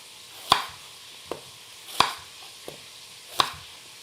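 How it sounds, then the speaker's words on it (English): A knife cutting apples on a cutting board: three crisp, evenly spaced thuds with softer taps between them, close and clear in a quiet room. "I'm going to cut the apples up"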